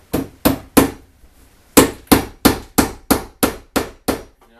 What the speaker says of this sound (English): go ahead and staple it in here, and it keeps it nice and tight to the stud